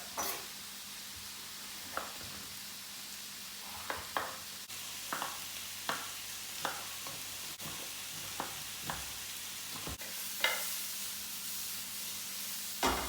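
Onions, garlic and chorizo fry steadily in a pan, a soft continuous sizzle broken by regular stirring scrapes and taps, with no talking.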